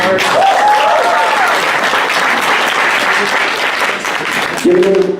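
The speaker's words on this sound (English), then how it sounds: "Give another round of applause" An audience applauds after an American spoken word performance, a dense, loud, sustained wash of clapping with a few voices rising over it near the start and again at the end.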